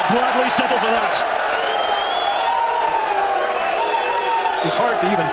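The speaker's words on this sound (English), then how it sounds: "It's hard to even think with this crowd noise going on" Steady loud crowd murmur and cheering fills an arena during a Mosconi Cup pool match, with a commentator talking over the continuous din.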